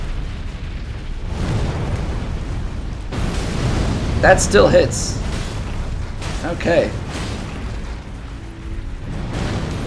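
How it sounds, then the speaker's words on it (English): Explosions boom in the video game Elden Ring, low rumbling bursts that swell and fade under game sounds and a voice talking in the clip, with sharper crackling hits midway. "So that's just like a big enough explosion."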